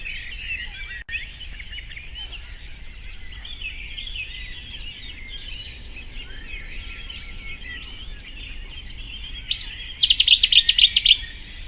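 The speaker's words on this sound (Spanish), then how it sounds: "Estas cigüeñelas." Black-winged stilts calling in an urban setting, a steady chatter of birdsong throughout, then a closer burst of sharp, evenly spaced piping notes toward the end.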